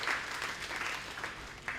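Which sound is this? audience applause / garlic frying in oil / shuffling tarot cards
audience applause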